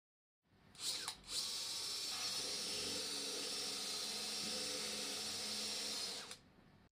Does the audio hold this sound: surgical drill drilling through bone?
yes